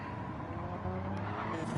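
Racing game car locking up its tyres under late braking, a loud engine drone with a rising squeal and skid building through the second half.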